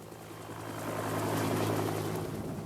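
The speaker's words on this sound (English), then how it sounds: "Then the helicopter took off, and for a few tense minutes flew across the town." A helicopter lifts off from a hillside house above Medellín and flies across town, its engine and rotor drone swelling steadily louder and holding as a continuous rumble with no voices.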